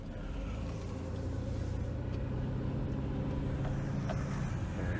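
A car rolls slowly into a laundromat parking lot, its engine a steady low rumble with road noise and no one talking.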